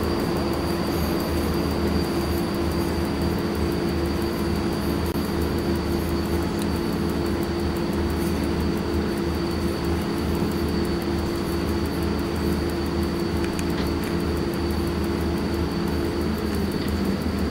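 A freight train running in the SimRail train simulator gives a steady, continuous rumble of wheels on track with a constant tonal hum, and nobody speaks.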